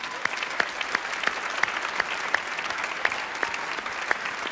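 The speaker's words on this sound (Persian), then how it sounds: "پدر رو تشویق کنین" An audience applauds a father at a Quran recitation gathering, a steady wash of clapping with scattered sharper claps throughout, moderately loud and continuous with no talking.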